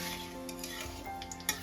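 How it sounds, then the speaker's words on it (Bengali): Half a teaspoon of nigella seeds (kalo jeere) crackle in hot oil, a brief close sizzle with faint stirring scrapes and a small clink near the end, no voices. "হাফ টিস্পুন কালো জিরে ফোড়ন দিলাম।"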